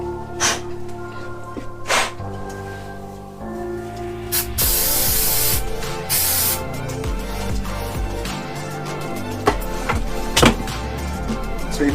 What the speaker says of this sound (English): brake clean. You can use whatever you want, blow it out.